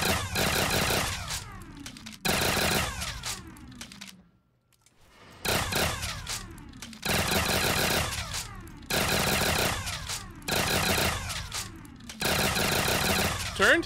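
Turret gunfire in a video game, loud bursts of rapid automatic shots repeated about every two seconds in a steady pattern, with one brief silent gap partway through.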